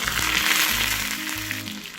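Sliced shallots sizzling in hot coconut oil with spluttered mustard seeds, a bright continuous frying hiss close up, with soft intermittent low bumps beneath it.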